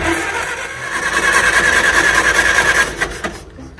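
A 1955 Divco milk truck's old engine cranks loudly and roughly for about three seconds with a whirring, churning drone, then stops abruptly into near silence.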